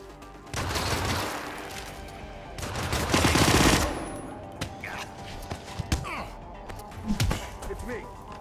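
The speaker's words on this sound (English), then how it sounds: "Man, you got somebody firing a gun." Bursts of gunfire in the Hitman video game, set in a workshop: a long loud automatic volley, a second heavier burst, then scattered single shots and thuds, with voices talking in between.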